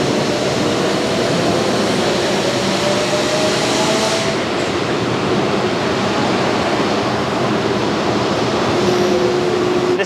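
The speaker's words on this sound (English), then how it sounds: "this is our link dyno right here, where we're, again, it's actually in the middle of running one of our tests" A brake link dyno mid-test in a brake manufacturing facility, a loud steady rushing roar with faint tonal whines drifting in and out, continuous and close, no talk.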